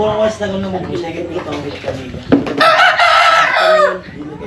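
A rooster crows loudly near the end while chickens cluck nearby, with some background voices mixed in.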